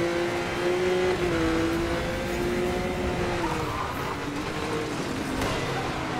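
Porsche race car engines roar steadily in Need for Speed Most Wanted, a constant loud drone with a sustained engine tone that shifts in pitch as the cars race together, with no voices.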